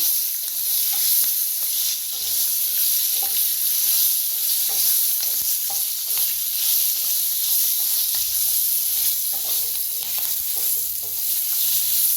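Five green chillies roast in a hot pan, giving a steady, close sizzling hiss with faint stirring scrapes throughout and no voices.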